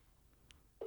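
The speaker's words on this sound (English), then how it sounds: "it's just me ringing Trish" A telephone dials out to place a call, giving a faint short beep and then a louder steady tone at the very end.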